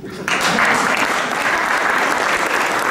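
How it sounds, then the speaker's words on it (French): Thick, loud applause from a concert crowd at a national accordion competition starts abruptly and carries on as an even, full-bodied roar of clapping. "Applaudissez-vous."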